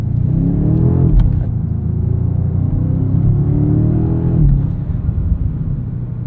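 A 2025 BMW M5 G90 with its hybrid V8 accelerates hard, a deep rising engine roar with gear shifts breaking the climb, heard from inside the cabin, loud and continuous.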